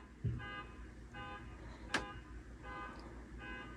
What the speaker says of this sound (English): Somebody's alarm.